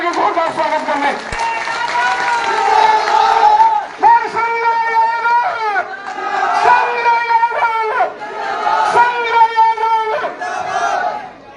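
Loud village crowd at a Rajasthan Congress campaign gathering in Jakhrana, with voices shouting in unison in repeated waves of cheering slogans mixed with some clapping.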